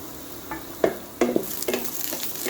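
Onion, garlic and ginger sizzle in a hot pan for a senai kilangu (yam) kola, with a few distinct scraping stirs and clinks of the spoon against the pan over a steady frying hiss, close and without talk.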